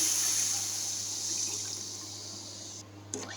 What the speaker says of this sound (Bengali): চালটা আমার ভাজা হয়ে গেছে, আমি আন্দাজ মতো পানি দিয়ে দিলাম।